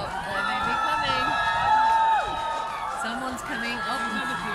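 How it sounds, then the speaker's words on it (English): A crowd screams and cheers outdoors, with shouts and whoops mixed together under and around nearby talking, swelling briefly louder near the middle before easing back. "I'm hearing louder screams."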